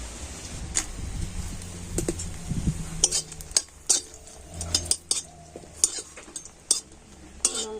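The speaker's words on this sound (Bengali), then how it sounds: "প্রথমে আমি দুটো শুকনো লঙ্কা ভেজে নিচ্ছি" Two dried red chillies frying in oil in a pan, a quiet sizzle under clinks and scrapes of a utensil against the pan.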